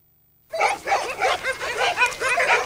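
Several Welsh springer spaniels bark and yip in quick, overlapping bursts after a brief silence, loud and close, the barking continuing steadily to the end.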